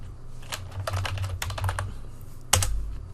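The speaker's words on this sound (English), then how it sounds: "Type in test out, hit enter." Keys clatter on a computer keyboard while text is entered, in quiet, irregular bursts of close keystrokes. A single sharper key strike comes near the end.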